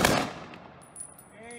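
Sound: rifle volley of a 21 gun salute

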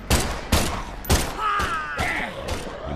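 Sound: gunfire in VR video game Desperate: Vladivostok

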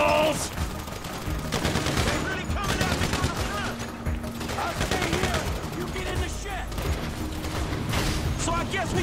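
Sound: gunfire in shootout, from video game GTA V

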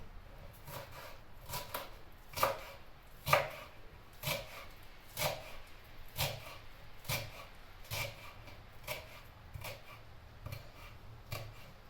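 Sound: chopping purslane

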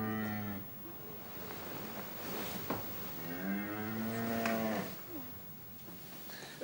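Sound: cow mooing

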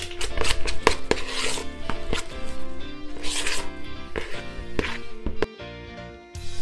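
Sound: mixing chocolate protein ball mixture in a bowl

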